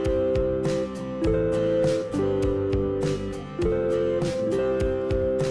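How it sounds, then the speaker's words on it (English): Guitar chords strummed repeatedly, rhythmic down-and-up strokes with ringing open shapes played high up the neck, close and clear, with no talking. "So I'm gonna strum it once."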